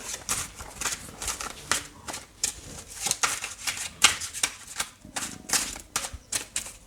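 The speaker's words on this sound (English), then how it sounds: "a couple more cards fall out of the pack, but I'm going to shuffle those ones back in" Tarot cards are shuffled steadily by hand, a run of crisp riffling slaps and flutters repeating at a quick, uneven rhythm, close and fairly quiet.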